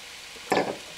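A single short sizzling rush as a taco shell hits a hot pan, then brief shuffling, close and fairly loud, with no voices.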